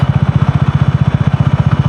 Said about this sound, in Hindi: फिफ्थ गियर में बाइक अब चल रही है बिना थ्रोटल के